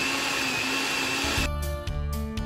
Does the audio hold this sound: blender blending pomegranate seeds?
yes